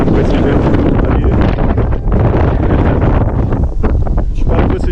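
Strong wind blows over Guanabara Bay near the bridge in Rio de Janeiro, a loud continuous rumbling gust buffeting the microphone throughout, with no clear voices.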